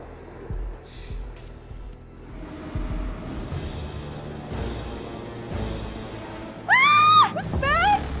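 Women screaming in an Indonesian drama series, a pair of shrill rising cries near the end over a murmuring indoor background.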